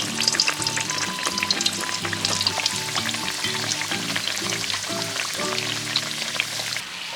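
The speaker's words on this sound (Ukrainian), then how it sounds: "Смажимо 2-3 хвилини з кожному боку." Empanadas sizzle and crackle steadily in hot oil, a close, busy frying sound with irregular pops throughout.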